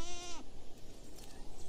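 A single goat gives one short, nasal bleat up close, and then only faint outdoor background remains.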